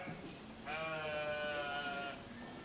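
A Dorper breeding sheep on a farm gives one long, wavering bleat that is close and clear over faint background noise, with no talking.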